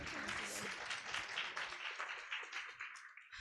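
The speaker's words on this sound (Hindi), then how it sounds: "एक बार जोरदार तालियां जीवित परमेश्वर के लिए।" A church congregation claps for the living God, quick dense applause at modest volume that thins and fades toward the end.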